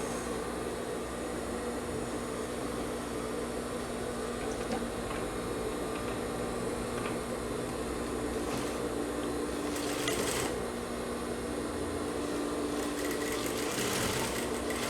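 Sewing machine stitching a blouse, a steady fast mechanical whirr with fine ticking texture running continuously, close and even, with a few brief clatters and pauses in motor pitch.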